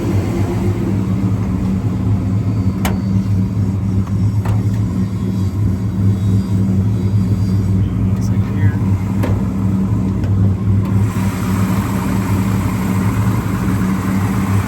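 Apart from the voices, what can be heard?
1970 Plymouth Road Runner 383 V8 engine idling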